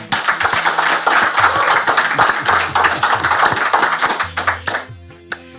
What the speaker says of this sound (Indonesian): Tepuk tangan buat Bang Sandiaga Uno